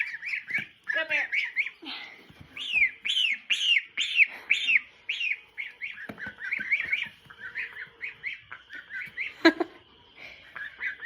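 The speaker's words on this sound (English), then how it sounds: "these are my geese." Domestic geese honk and squawk in quick, overlapping bursts up close, with a brief louder squawk near the end and no talking.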